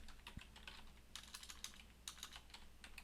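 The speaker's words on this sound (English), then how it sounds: "Might as well start by just typing your name." Quick bursts of keystrokes on a computer keyboard as a name is typed, close and fairly soft, clattering in short irregular runs with no talking.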